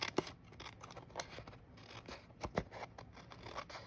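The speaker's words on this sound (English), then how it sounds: "just follow the line of the envelope flap and cut all the way around" Scissors snip through paper, tracing around an envelope flap for a Halloween card craft; quiet, close, irregular crisp cuts with soft rustling between, no talking.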